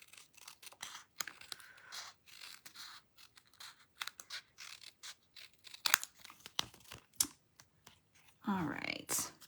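Scissors fussy-cut small paper card pieces with quick snips and papery rustles in uneven bursts, close and fairly soft, ending in a louder crinkling stretch, with occasional faint voice sounds.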